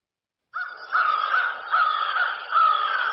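A crow caws three times in quick succession, loud, harsh and close, each call following a short onset with no other sound around it.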